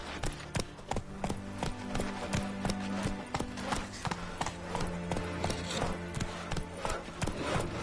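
Roach, a horse in The Witcher 3, gallops with a rapid, even clip-clop of hooves, steady and close, over a low sustained game music drone.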